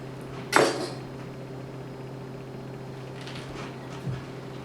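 A knife cuts through peaches on a kitchen board for a Caprese salad, with one sharp clack of the blade striking the board early on and a softer knock a few seconds later, close by and alone against a quiet kitchen hum.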